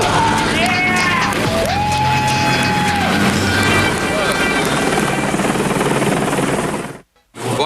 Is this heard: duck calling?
no